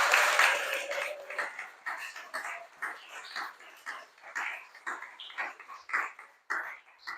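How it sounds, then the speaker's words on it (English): An audience at a school prize giving and Year 6 farewell applauds the MCs: steady, fairly close clapping with uneven bursts and rises lasting the whole stretch, with no voices over it. "can we just have a big round of applause for our MCs today, Mahir Nathani and Rania Ghaffar."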